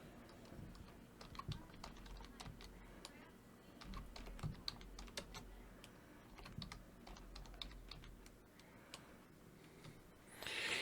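Someone types on a computer keyboard at a steady pace, the quiet, close key clicks coming in irregular runs with no talking.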